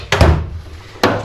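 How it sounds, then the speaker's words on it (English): Drawers of a dusty 1980s Snap-on toolbox slide and shut, making two sharp metal thunks in quick succession, then a third a moment later, close and loud. "all the drawers actually aren't in bad shape. They all open up very nice."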